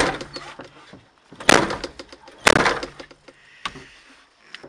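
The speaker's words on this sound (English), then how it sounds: "now we get to try to shut the door with the new seal." An old, rusty vehicle door is shut against a new door seal: two loud solid slams about a second apart, each with a short rattle, followed by a softer knock and light handling noises.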